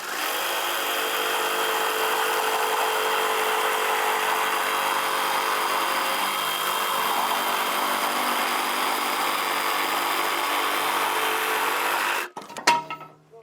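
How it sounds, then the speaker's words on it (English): Jigsaw cutting a soffit board, a steady loud buzzing cut running continuously up close for about twelve seconds before stopping with a brief clatter. "we're gonna go ahead and cut that with a jigsaw"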